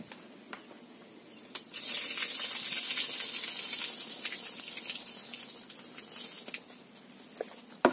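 Tap water runs into a container in a home kitchen during vegetable prep, a steady broadband rush that starts suddenly after a couple of seconds and continues fairly loud, with small clatters at the start and end.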